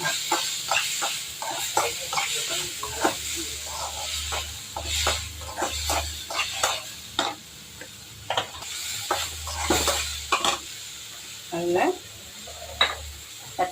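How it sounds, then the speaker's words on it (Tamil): Big onion and a tomato sauté in a pan for chutney: a continuous close sizzle broken by frequent rhythmic scrapes and stirs of a spatula against the pan. "ஒரே ஒரு தக்காளி, தக்காளியை நம்ம போட்டு நல்லா வதக்கிக்கலாம்"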